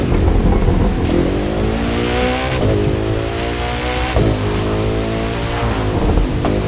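A Koenigsegg Jesko in The Crew 2 revs hard as it accelerates, its engine pitch climbing steadily, dropping briefly at each gear change, then rising again, loud and close throughout.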